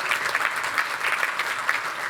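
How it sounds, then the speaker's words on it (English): An audience at a Vaisakhi celebration at Wembley Stadium claps in a steady, continuous round of applause, moderately loud and sustained with no voices on top. "I think we should give her a round of applause"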